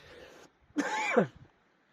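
A single short, harsh cough close to the microphone, following a brief faint breath and then silence.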